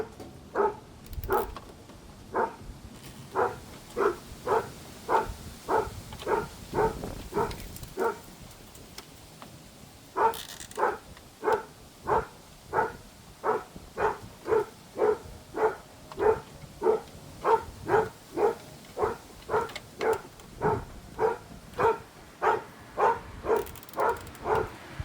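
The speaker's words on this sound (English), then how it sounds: "She's barking at some little kids." A dog barks in long, steady runs of evenly spaced barks, about two per second, at moderate distance, pausing briefly before starting again.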